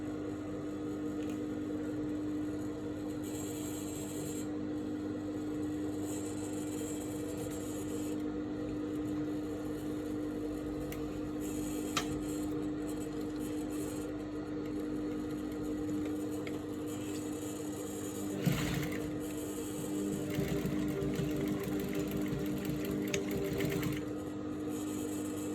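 A sewing machine runs in a steady, continuous hum as it stitches a seam on a straight-leg pant, close and alone, with the motor tone holding even throughout and a brief rustle of fabric handling near the end.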